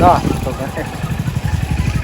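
A motorcycle engine putters with quick, even low pulses nearby on a village road as someone speaks over it.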